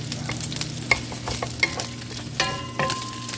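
Chicken wings and pork steak fry and brown in a hot pan, with a steady sizzle, occasional stirring scrapes and a few sharp pops, close and fairly loud, with no voices.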